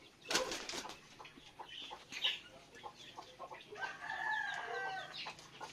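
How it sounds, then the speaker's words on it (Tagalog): A hen in a free-range chicken coop clucks in short bursts, with a rooster-like call and a flutter of wings, moderately close in a quiet outdoor yard with no talking. "Ito pala yung inahin. Gusto na umakyat."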